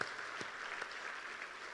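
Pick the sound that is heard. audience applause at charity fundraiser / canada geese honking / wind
audience applause at charity fundraiser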